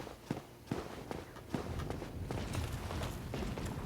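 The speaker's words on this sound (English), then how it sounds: "I heard the little clink, clink of his footsteps" Armored enemy's footsteps in Dark Souls Remastered, a series of sharp metallic clinks stepping at a steady pace, fairly close, over a dense low game ambience.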